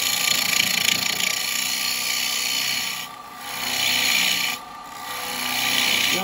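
A carbide chisel cuts a spalted beech bowl on a wood lathe. The tool tip bounces off the bevel, making a loud, close, rasping scrape that drops out twice in short pauses before it resumes.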